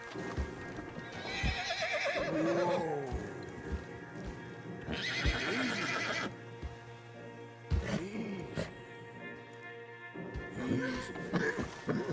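Horses in the Red Dead Redemption 2 game neigh and whinny in several loud, wavering calls, with hooves clip-clopping and snorts in between, close by over a low ambient hum.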